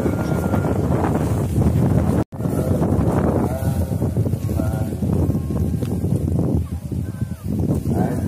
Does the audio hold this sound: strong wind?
yes